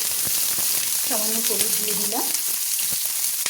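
Eggplant pieces frying in oil seasoned with turmeric and salt give a steady, close sizzle throughout, with a brief tonal sound partway through and no clear speech.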